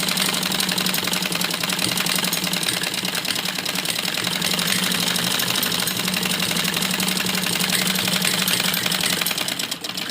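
A sewing machine runs nonstop, stitching a printed suit, a loud, dense mechanical whir with a rapid, even needle clatter that holds steady for about ten seconds.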